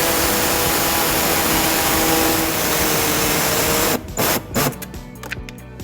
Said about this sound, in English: we're going to be using our air saw to cut that